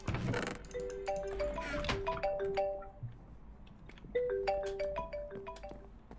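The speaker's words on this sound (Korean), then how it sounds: "전화가 오는데?" A cell phone rings with a bright, chiming melodic ringtone. It plays one tinkling phrase and then repeats it after a short pause, fairly soft and close by.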